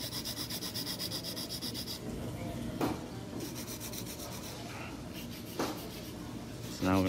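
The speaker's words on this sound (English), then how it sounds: "I'm gonna finish up the drilling and I'm gonna reshape, refile a little bit" A nail file rasps over coffin-shaped acrylic nails as they are reshaped, steady close scraping strokes at low volume with a couple of brief louder scrapes.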